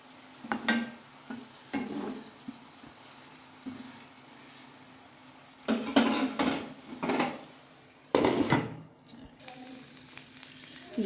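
Mutton keema kebab patties fry in hot oil in a pan, with bursts of sizzling and spattering broken by quieter stretches and occasional clinks of a utensil against the pan, fairly close.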